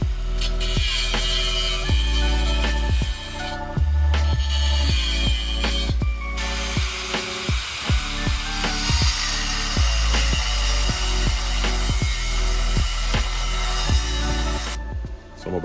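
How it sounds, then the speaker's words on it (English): Metal brackets are cut in half with a power tool to make L-shaped angle pieces for a mobile chicken coop. A loud, continuous grinding whine runs throughout, punctuated by many sharp clicks and clanks. "I'm gonna cut these brackets off, cut them in half, and I'll have 2 angles"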